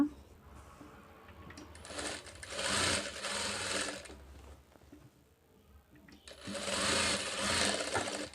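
A sewing machine stitches a katori blouse in two long bursts of rapid mechanical whirring and needle clatter, close and loud, with a brief quieter pause between them.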